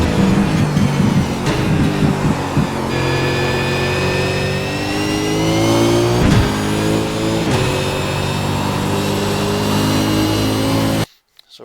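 A race car engine accelerates around the Zolder circuit, a loud, close, continuous drone with rising pitch through gears, brief dips at shifts and a sudden cut at the end.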